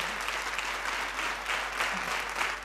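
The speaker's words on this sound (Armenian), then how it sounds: "Ծափարենք նրանց։" A seated audience applauds the museum's women staff at an event honoring the poet Silva Kaputikyan, a dense, even burst of many hands clapping throughout, with no voices over it.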